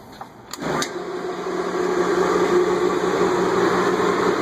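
A car's air-conditioning compressor kicks in during an AC recharge: a couple of clicks, then a steady, loud mechanical hum and fan roar that settles into a continuous drone.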